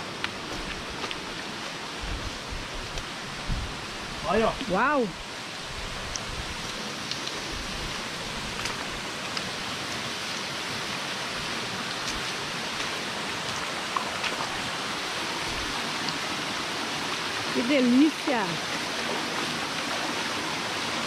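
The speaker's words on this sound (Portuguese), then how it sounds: "Ó, encontramos a primeira cachoeira." A large waterfall over 20 metres high on a forest trail gives a steady, broad rushing roar throughout, with brief excited exclamations from a man partway through and near the end.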